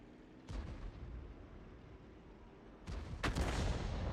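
Two booming artillery shots from a Bat Châtillon 155.58 self-propelled gun in World of Tanks, the first a single blast and the second a louder double report, each with a rumbling tail over low background hum.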